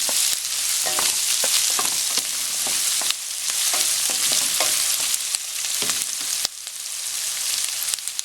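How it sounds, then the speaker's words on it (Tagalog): Onion and pork fry in a hot pan with a loud, continuous crackling sizzle, broken by repeated scrapes and clinks of a stirring utensil. "lulutuin lang natin yung onion hanggang sa maging half cook yung onion"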